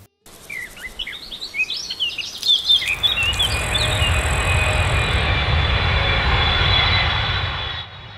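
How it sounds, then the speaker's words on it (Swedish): A planned stone crusher site near Duvnäsviken in Nacka is represented by a loud, steady jet-like roar that builds after a few seconds of birdsong and holds until a slight fade at the end. "Fastän en kross kan låta lika mycket som ett jetplan som startar."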